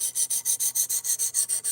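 A knife being sharpened on a sharpener, about eleven even, rhythmic rasping strokes in quick succession, close and bright, with no talk.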